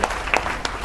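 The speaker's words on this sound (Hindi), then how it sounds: "अरे ताली बजाओ यार, जोरदार तालियां यार।" Students at a coaching institute's results ceremony clap briefly, a few scattered sharp hand claps in a short burst over room noise.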